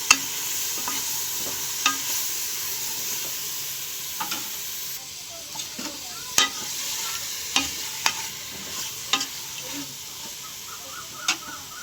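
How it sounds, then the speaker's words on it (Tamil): Goat intestines fry in a pan under a continuous gentle sizzle, with irregular scrapes and taps of a spoon stirring against the metal, close up and with no talking. "அடுத்து எடுத்து வச்சுருக்க குடல் நல்லா ஒரு நிமிஷம் நல்லா கிளறி விடணும்"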